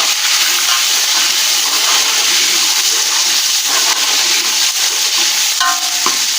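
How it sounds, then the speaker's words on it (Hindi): Chopped tomatoes added to browned onions in a hot pan give a loud, steady frying sizzle and hiss, with occasional scraping from stirring, heard up close without talking. "अब मैं इसमें टमाटर डाल दूँगी।"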